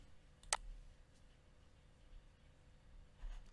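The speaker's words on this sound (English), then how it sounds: "I'm gonna click remove." A single sharp computer mouse click, faint and close, then quiet, with a softer tick near the end.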